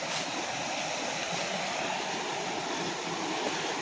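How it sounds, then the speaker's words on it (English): Lick Creek flowing beneath a large trail bridge in Big South Fork, a steady broad rushing wash of water that holds constant and fairly close throughout, with no talking. "This is actually Lick Creek."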